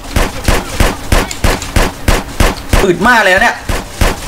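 Rapid gunfire from GTA San Andreas cracks out in a steady rhythm of evenly spaced shots, with someone talking loudly over the firing in its closing second.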